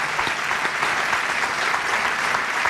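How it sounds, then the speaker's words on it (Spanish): Audience applause from a live studio crowd fills the whole stretch, a steady, dense wash of many clapping hands at fairly close range with no break. "Aplaudid, por favor"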